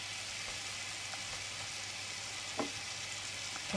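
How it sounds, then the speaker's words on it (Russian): Chopped vegetables with pepper frying in a pan for Hungarian bean soup, a soft continuous sizzle with occasional light clicks of stirring, fairly quiet and without talk. "Пусть жарится минут 10-15. Обжаривается все."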